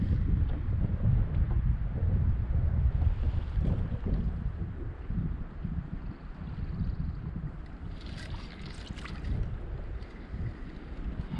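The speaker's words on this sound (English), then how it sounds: "It's wind. It's literally pushing us so far away." Wind blows on open water during kayak fishing, a continuous rushing roar buffeting the microphone, strong and steady with some gusty variation.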